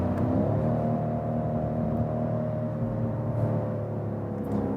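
BMW M550i 5-Series with a V8 petrol engine, a deep, steady low exhaust rumble with layered engine tones, held close and loud throughout without speech.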